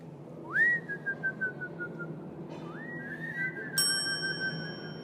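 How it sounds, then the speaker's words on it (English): A whistle is blown in a few rising, sustained blasts, the first longer and then two more in quick succession, clear and loud over a quiet background with a faint bell-like ring near the end. "That's the whistle, guys."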